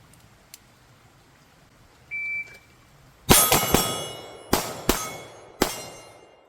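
A shot timer beeps, then six sharp pistol shots ring steel targets during a speed shooting drill: three quick close reports with ringing clangs, a pause, two more, then a final single shot, each leaving a bright metallic ring.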